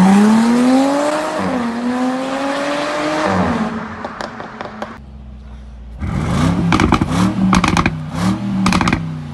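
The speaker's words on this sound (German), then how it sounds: "das sind zwei Autos gerade gewesen, die so laut wie die sind, absolut straßenzugelassen sind" Two loud street-legal cars pass and rev, first a smooth engine note climbing and falling in pitch, then after a brief quiet lull a second car with sharp, crackling rev bursts and pops, close and loud.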